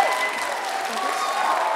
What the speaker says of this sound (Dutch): Nog één keer een heel hard applaus voor Saskia, jongens.